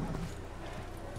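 Steady clip-clop of horse hooves at a trotting pace in the video game Assassin's Creed, fairly close, with a faint murmur of voices underneath.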